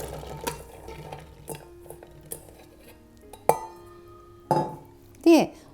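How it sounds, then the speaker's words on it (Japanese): Soaked soybeans go into a kitchen blender with scattered clinks, knocks and rattles of the container and utensils, ending in a few louder clattering bumps. "こちらの方をミキサーに入れていきます。"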